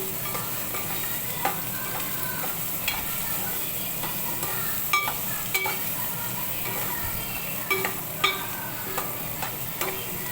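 Mutton pieces fry in an open pan for curry, a continuous loud sizzle with scattered clicks and taps of a spoon stirring and scraping the metal.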